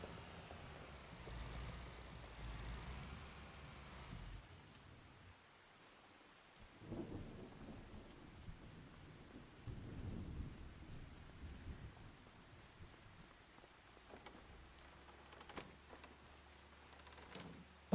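Heavy rain pours outside in a steady wash, punctuated by low rolling rumbles like distant thunder or passing traffic, faint and spread out over the whole stretch.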